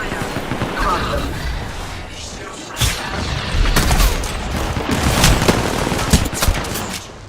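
Rapid bursts of gunfire and explosions in a ranked Apex Legends match, loud and dense throughout, with a player's voice talking over the shooting.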